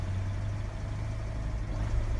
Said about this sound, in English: It will almost stumble and cut out the engine actually.